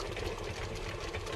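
An older electric stand mixer runs at a raised speed while mixing cake batter, making a steady motor whir with a faint rhythmic rattle from a loosening bowl.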